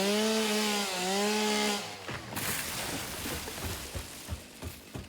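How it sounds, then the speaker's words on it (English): A chainsaw in the game Satisfactory whines with a steady harmonic engine tone for nearly two seconds, then breaks into a rough, gritty cutting noise with repeated clacks as it clears vegetation, close and loud. "Pull this chainsaw so we can clear out some of this stuff."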